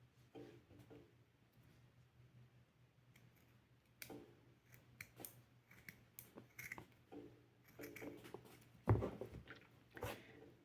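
Scissors snip crochet yarn for a clutch bag in a quiet room, a series of faint, irregular clicks and small cuts with one louder clack near the end.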